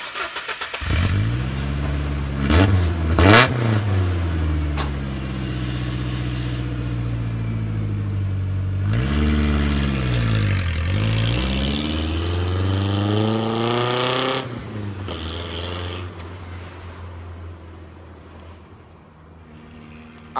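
A car pulls away and accelerates with several rising revs and gear changes, loud at first, then receding and fading as it drives off into the distance.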